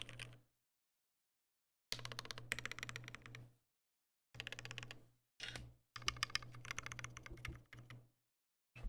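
Bursts of typing on a Peachyuu custom mechanical keyboard with a copper plate and stiff switches, fast dense clacks in several runs separated by short silences, close and fairly quiet.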